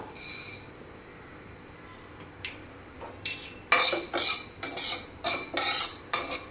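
A metal spoon tips fenugreek seeds into a dish while making bean pickle, starting with a brief scrape, then a run of loud, close clinks and scrapes against the vessel, with no talking.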